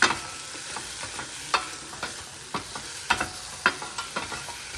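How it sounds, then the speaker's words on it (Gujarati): Salad with air-fryer grilled halloumi and crunchy vegetables being tossed in a bowl, a series of light scraping and clicking strokes at an uneven rhythm over a soft hiss, close and without talk. "અને હવે બધું પાછું સરસ રીતે મિક્સ કરી લઈશું."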